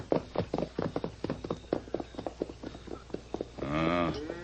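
Horse hooves in an old-time Western radio drama, a steady run of sharp clip-clop beats close by as the horse nudges steers from a herd, ending in a brief animal cry.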